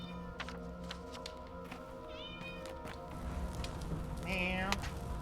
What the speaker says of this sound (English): It gets quieter with each meow.